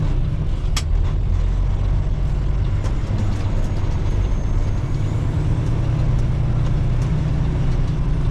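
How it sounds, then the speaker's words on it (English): A dump truck idles nearby in traffic, a steady low rumble with a brief sharp hiss like an air brake early on and faint clanks from the road around it. "Oh, there's a truck there."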